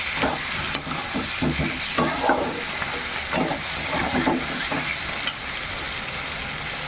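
Chicken curry with potatoes frying in a pan, a close, steady sizzle and hiss broken by scraping stirs and clinks, no voices.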